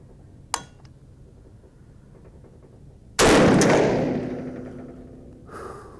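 A single loud rifle shot from a 350 Legend, a sharp blast that decays over a couple of seconds, preceded by a brief faint click and followed by a small thump.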